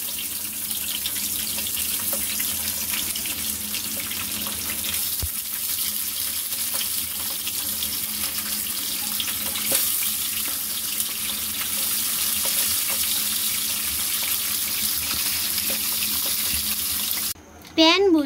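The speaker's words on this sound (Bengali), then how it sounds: "ট্যাংরা মাছগুলোকে এখন ভেজে নিতে হবে।" Tengra fish frying in hot oil in a pan, a loud, continuous close hiss and crackle holding steady for a long stretch before it abruptly shifts near the end.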